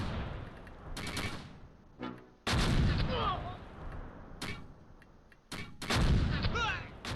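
Mortar and artillery fire in the Close Combat WWII game, Colleville 1944, with repeated loud booming impacts arriving in irregular bursts, a few crackling gunfire shots and faint radio chatter between them.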